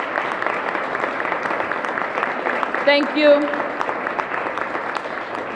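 An audience at a school district chancellor announcement applauds the district's teachers and leaders, a dense, sustained clatter of clapping with a speaker's voice briefly heard over it.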